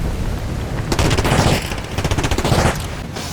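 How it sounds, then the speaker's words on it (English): Grenade explosions in ARC Raiders, thrown against the wind, go off as a fast burst of loud cracking booms over a rumbling low-end background, clustered near the middle and end. "if you throw it against the wind, the explosions seem to trigger much faster"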